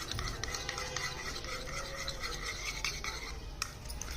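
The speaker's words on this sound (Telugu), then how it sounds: "ఫస్ట్ కర్డ్ తీసుకొని కర్డ్లోకి టర్మరిక్ పౌడర్ వేసుకోవాలి. వేసుకొని బాగా మిక్స్ చేసుకోండి." A spoon stirs turmeric powder into curd, making a continuous, close, gentle scraping and rubbing sound against the bowl, fairly quiet and even throughout.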